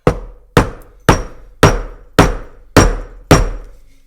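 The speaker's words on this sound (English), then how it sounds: "I'm just going to lightly tap it with a hammer or a mallet" Hammer lightly tapping a wheel bearing seal through a wood block, seven evenly spaced sharp knocks, close and loud with short decays.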